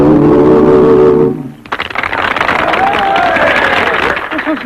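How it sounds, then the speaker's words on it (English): Applause from a crowd at a 1938 Western barn dance breaks out loudly after a sung song ends, a dense sustained clatter of clapping and crowd noise that continues to the end. "Just listen to that applause and watch their faces."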